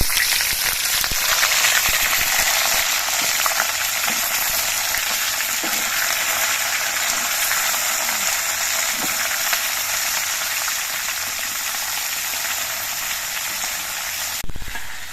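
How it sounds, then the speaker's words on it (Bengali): Winter vegetables hit oil with fried five-spice seeds for a mixed khichdi, making a loud, even sizzle that runs unbroken for about fifteen seconds, up close with occasional stirring scrapes and no speech. "পাঁচফোড়নগুলো ভাজা হয়ে গেছে এবার এর মধ্যে আমি বেগুন বাদে অন্যান্য যে সবজিগুলো আছে সেই সবজিগুলো দিয়ে দিচ্ছি"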